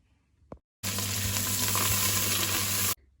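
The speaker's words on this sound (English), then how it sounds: "add 1 handful of chopped coriander leaves and saute well" Onions and chopped coriander leaves sauteing in hot oil for South Indian seeraga samba chicken biryani, a loud close sizzle lasting about two seconds, preceded by a brief knock.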